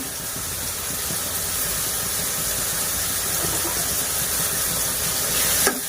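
Ginger garlic paste sizzles in a pan for a village-style mushroom and bean curry, giving a steady, broad hiss that holds evenly throughout. A short louder crackle comes near the end, and no one speaks.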